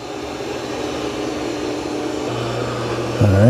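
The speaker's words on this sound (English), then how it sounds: "when it gets onto that rug, it's going to lift the mop pads 9 millimeters and ramp up the suction" An Ecovacs Deebot T30S robot vacuum moves onto a rug and its suction ramps up, a steady close whirring hum with a droning tone that rises sharply in pitch and loudness at the end.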